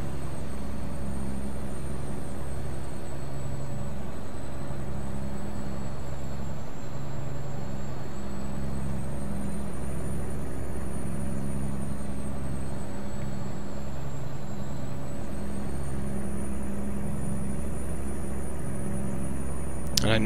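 Steady engine drone and road hum from a car in a video game as it cruises along a highway lane, a continuous low rumble at an even pitch with a thin high tone above, no voices.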